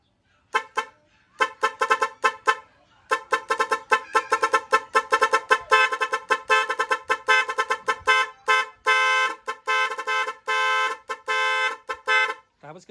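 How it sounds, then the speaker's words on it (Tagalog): A Nipro rapid horn wired to a motorcycle sounds in loud, close bursts of fast, buzzy honks, starting and stopping in quick trains, some runs longer and steadier than others. "Rapid horn."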